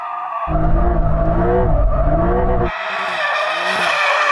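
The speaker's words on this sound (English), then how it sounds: "Sam just wants to go and have a little bit of a victory drift round a tree." A sports car drifts around a tree on an off-road surface. A loud, steady tire squeal and engine roar lasts about two seconds, then eases into a lighter, fading skid.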